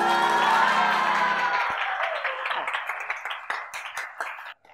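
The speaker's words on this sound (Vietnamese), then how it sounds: "Vỗ tay cái coi." Applause from a school audience of high-school students, steady clapping that starts under a voice and fades to scattered claps, with some crowd noise and talk in the room.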